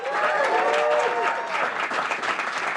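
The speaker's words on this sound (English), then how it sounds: "Let's give them a big round of applause" A demo day crowd applauds twelve startup founders, loud continuous clapping with a few cheers and whistles rising near the start, sustained throughout.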